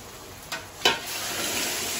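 Water poured into a hot pan of sautéed rice at a home puja meal, two quick bursts of sizzle giving way to a steady hiss of boiling; brief and fairly quiet, no talking.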